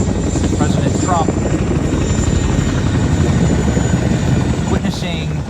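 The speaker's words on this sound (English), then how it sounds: "The same helicopters, probably the same teams." Military helicopters fly overhead in a steady, loud rotor drone that holds for the whole stretch, with faint voices underneath.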